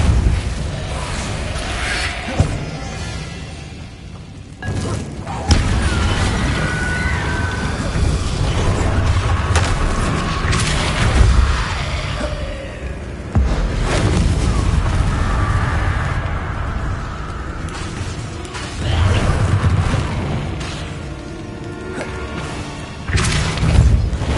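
Confringo and Repulso spell blasts in the Hogwarts Legacy video game, a run of heavy booms and crashing impacts over a continuous rumbling bed, with several distinct loud hits spaced across the stretch and no talking.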